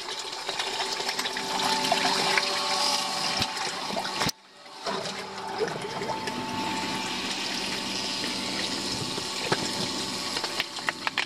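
Water pours and rushes steadily during an exploration of an old well in Stary Sącz. The flow is close and continuous, with a short dip partway through before it resumes.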